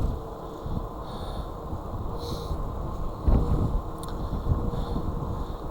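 Strong hurricane wind buffeting a 2024 Wired Freedom super bike, a constant roaring rumble with gusty swells, loud and close throughout.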